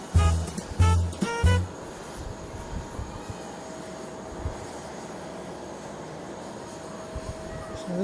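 A jet airliner, registration JA12XJ, rumbles at Fukuoka International Airport, a steady broadband engine roar sustained throughout, with a few louder distinct bursts near the start.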